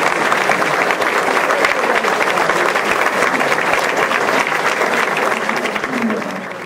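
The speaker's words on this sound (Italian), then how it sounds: "io penso che un applauso al rappresentante della Brigata Maiella lo dobbiamo" At a first-day-of-school ceremony, a large audience gives sustained, loud applause for a representative of the Brigata Maiella, dense clapping at full strength that tapers slightly in the final second.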